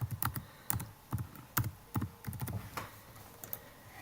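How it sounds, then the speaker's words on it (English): Computer keyboard typing in quick bursts of separate key clicks, ending with a firmer press of the enter key, close and fairly quiet in a room with no talk. "Again, hitting enter on my keyboard."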